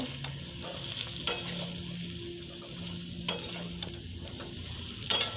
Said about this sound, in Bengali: মশলাগুলো দিয়ে ভালো করে কষে নেব